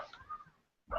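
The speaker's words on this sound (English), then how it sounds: "So you'll be hearing them and my dog." A household dog barks once near the end, a short loud bark after a brief quiet gap, following faint low background noise of people in a busy home.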